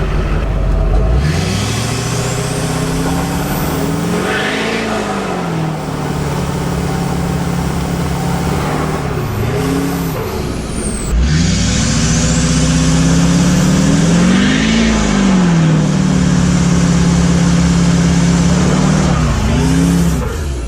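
A truck engine revs repeatedly up and down in a loud, throaty roar, close by, with rising and falling pitch sweeps across a continuous rumble.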